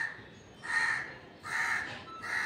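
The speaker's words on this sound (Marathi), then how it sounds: "काय मागते कावळा?" A crow caws three times in even, drawn-out calls separated by short pauses, clear and moderately near against a quiet background.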